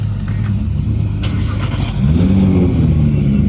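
A 600-horsepower Nissan GT-R engine turns over and catches, then rumbles into a deep, throaty rev that holds loud and close.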